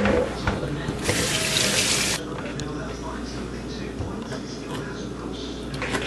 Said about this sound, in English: I pre-wash them with lime because I want it to be very clean.